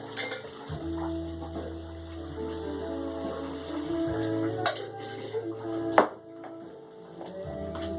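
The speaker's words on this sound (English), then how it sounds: "now we just add our methanol and lime mixture to this" Methanol and lime mixture poured into biodiesel feedstock in a container, with clinking, stirring and sloshing of liquid against the vessel, steady throughout with a sharp clank near the end.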